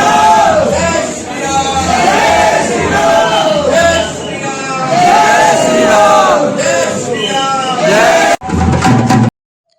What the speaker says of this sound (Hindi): आपने श्री राम और भोलेनाथ का जयकारा सुना दोस्तों